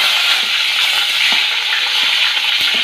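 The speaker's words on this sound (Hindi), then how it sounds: "अब इसमें मैं प्याज डाल रही हूँ" Onion sizzles in two tablespoons of hot oil in a kadhai, a loud continuous frying hiss close up, with occasional soft stirring scrapes and no one speaking.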